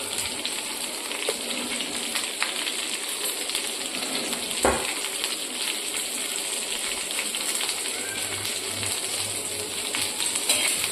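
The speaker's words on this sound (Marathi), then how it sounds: "परतून घ्यायचं छान पैकी" Garlic and coriander sauté in a pan for thecha, a steady, loud sizzle that holds throughout with no voices.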